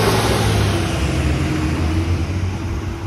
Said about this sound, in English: I'll let this loud truck pass by.